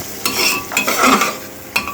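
Chicken being fried and stirred in a pan gives loud, close scraping strokes of a spatula, repeated in quick bursts over a sizzling background.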